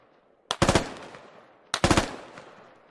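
Two separate short bursts of automatic rifle fire in the military shooter Squad, each a sharp crack followed by a quick rattling string of shots and fading echo, with quiet between.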